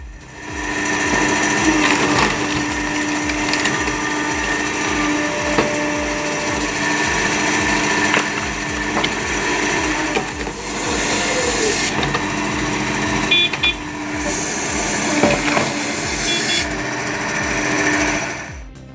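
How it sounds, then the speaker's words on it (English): A hydraulic firewood splitting machine drones loudly and steadily while splitting wood, its mechanical whine continuous with shifting intensity and occasional thuds and creaks. "its efficiency and stability make it an essential tool for heavy-duty wood-splitting tasks"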